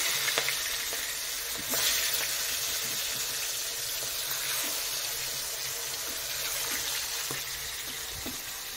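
Fish fries in hot mustard oil, giving a loud, continuous close sizzle with occasional pops and crackles and no talking.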